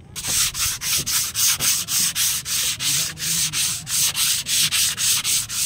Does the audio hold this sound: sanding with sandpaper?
yes